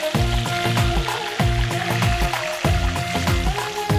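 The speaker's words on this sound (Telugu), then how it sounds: "మన ఫిష్ కొంచెం అలా ఫ్రై అవుతుంది." Masala-coated fish fries crisp in a pan for Manipuri fish curry, a loud close sizzle that keeps on steadily with rhythmic bubbling pulses, and no one speaks over it.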